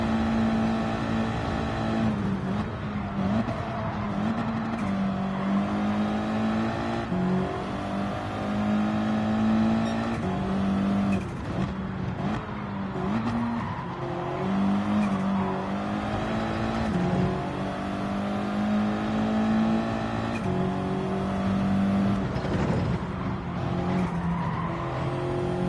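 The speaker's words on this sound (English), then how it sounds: "I'm going to let it rev out up this hill." A race car engine in Gran Turismo 7 revs out hard while climbing a hill, a loud sustained high-pitched howl with shifting pitch and occasional tire squeal throughout.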